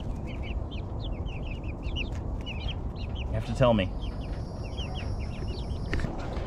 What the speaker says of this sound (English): That one I think is a rooster.